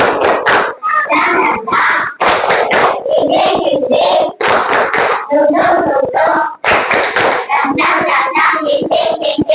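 An Indonesian school class performs a rhythmic spirit clap, bursts of hand claps in patterned groups with brief pauses between, close and loud, mixed with children chanting along.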